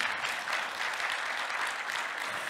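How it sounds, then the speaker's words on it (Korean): Audience at a meditation expo talk gives the panelists a sustained round of applause, a dense even wash of clapping from a moderately distant crowd. "큰 박수 부탁드리겠습니다"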